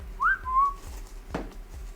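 A bird gives two clear whistled notes, the first rising, the second level, followed by a short chirp against a quiet background.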